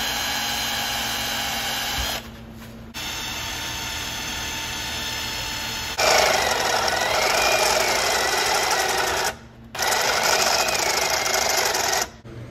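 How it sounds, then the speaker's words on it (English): A drill boring out the rivets on a Pontiac Fiero's suspension gives a steady, loud, close whine that runs with two brief breaks, rising in intensity and brightness after the first break. "Got all 4 rivets drilled out"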